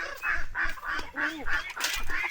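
Peking ducks squawk in a rapid series of loud, nasal honks, about eight calls in quick succession, close by.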